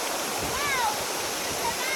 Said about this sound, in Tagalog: Guys, tumatawid na kami sa ilog.